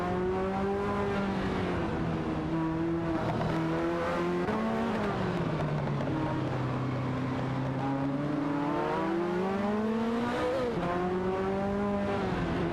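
Several cars, among them a Lamborghini Diablo Cheetah and a rough Cheetah 2, race in a video game with a continuous loud engine drone whose pitch rises and falls as the cars shift and accelerate, steady throughout with no talk.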